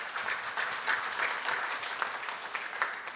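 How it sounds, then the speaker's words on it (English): An audience at a parole review summit claps steadily in a sustained round of applause, dense and even throughout, with no speech over it. "Can you give them a round of applause as he comes?"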